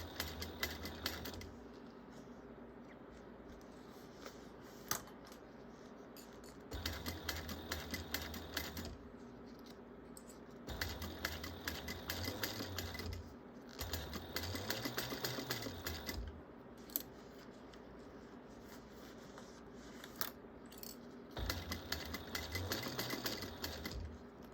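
A sewing machine stitches ITA bag lining pieces in repeated runs of fast rhythmic whirring, starting and stopping several times, with quiet handling pauses between bursts, close and clear without talk.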